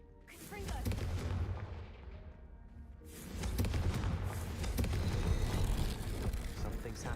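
A Confringo fire spell blast in Hogwarts Legacy gameplay: a heavy booming burst with rumbling low end, a brief lull, then a second sustained roar of crackling impact that lingers loudly to the end.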